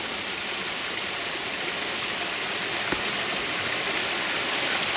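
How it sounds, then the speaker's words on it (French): Steady rushing water of a small river flowing continuously, a broad, even wash of sound with no voices. "petit cours d'eau, cette rivière"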